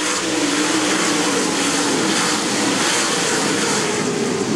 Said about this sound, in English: Rodney Sanders into turn 3, now picks the throttle up.